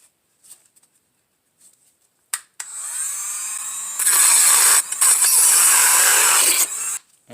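A power tool cuts through a Saturn S-series brake line near the ABS module, a loud high-pitched whir starting after faint clicks and running for several seconds, close up and alone.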